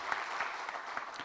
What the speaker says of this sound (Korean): 우리 3040에게 다시 한번 격려 박수 합시다